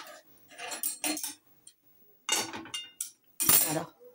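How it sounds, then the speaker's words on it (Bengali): Peanut brittle made with palm jaggery is poured from a pan onto a metal plate, producing bursts of scraping clatter and clinking with short silent gaps between them. "এবার এটা ঢেলে দেব থালার মধ্যে"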